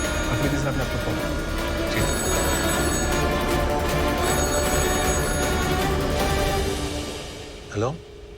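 A telephone rings insistently with a repeating electronic trill over a busy background of music and ambience, then the ringing stops near the end.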